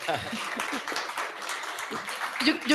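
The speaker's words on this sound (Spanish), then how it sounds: "Aplausos, carajo." Applause from the audience at a literary session fills the room, a dense, steady patter of clapping with voices talking over it.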